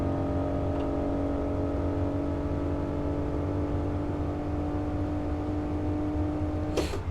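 A Honda NSX racing around Imola in Assetto Corsa, its engine held at a loud, sustained high-rev howl that climbs steadily, with a brief change near the end.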